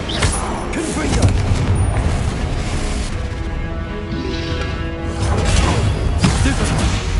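Confringo blasting spells exploding in Hogwarts Legacy, a loud dense run of booms, crashes and whooshes in combat, continuous and near throughout.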